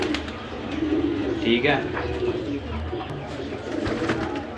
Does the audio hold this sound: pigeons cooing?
yes